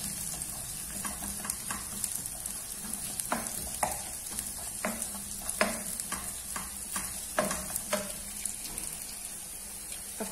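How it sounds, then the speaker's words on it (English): Carrots stir-fried in a pan give off a steady close sizzle, broken by repeated scraping stir strokes every second or so, with no talking. "We nicely stir them in."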